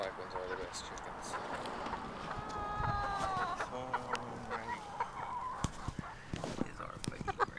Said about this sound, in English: The black ones are the best chickens.